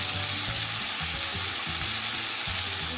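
Noodles and onions, with carrots and other vegetables for vegetarian chow mein, sizzle and fry steadily in a skillet over high heat, a close, continuous crackle with soft stirring scrapes and no talking.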